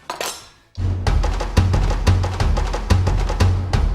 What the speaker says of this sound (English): that's ready to start chopping